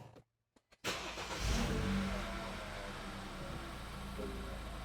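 A BMW F30 328i with the N20 engine and 8-speed automatic catches and revs up on a dyno run-up, a sudden loud roar after brief silence, then a steady sustained drone held at high load.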